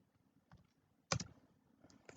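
A few quiet keystrokes are tapped on a computer keyboard. There is a brief burst of clicks in the middle and scattered single taps around it, faint and close.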